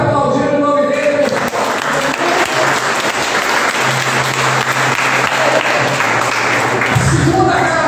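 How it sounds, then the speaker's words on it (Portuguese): A church congregation applauds during a family worship service, a dense, continuous burst of clapping filling the room for several seconds, with voices heard speaking at the start and end. "Você pode aplaudir o nome dele."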